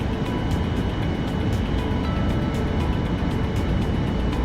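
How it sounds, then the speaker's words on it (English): CRJ900 jet engine spooling up during an automatic start in the Aerofly FS 2023 flight simulator, a steady, dense broadband roar and whine holding at an even, loud level throughout with no talk. "The engine controller now turns on the igniters and introduces fuel and starts the engine fully automatically for"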